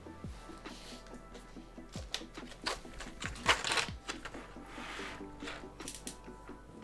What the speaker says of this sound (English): Let's throw as many keycaps on here as possible